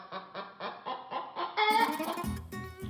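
A chicken clucks in a quick series of short, rhythmic calls, then breaks into a louder, higher squawk and a final flurry of clucks, close and clear with no talking.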